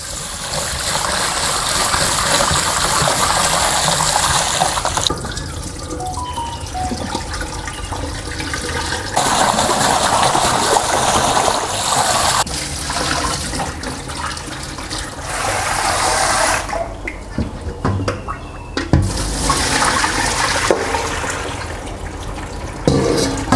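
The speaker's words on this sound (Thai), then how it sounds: "ทีนี้ให้เราล้างน้ำเปล่าให้สะอาด" Liver is rinsed clean under a kitchen tap, with loud continuous running water splashing into a basin and shifting in strength as the flow is moved, briefly breaking into trickles and splashes near the end.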